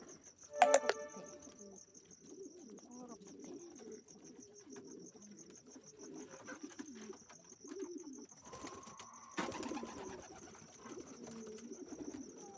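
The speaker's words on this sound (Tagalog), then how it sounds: "Ito yung mga kalapati namin." White pigeons on a farm coo in soft, low, continuous murmurs nearby, with a steady insect trill high above and occasional rustling and brief sharp noises.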